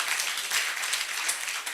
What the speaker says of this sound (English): So ladies and gentlemen, please clap for these people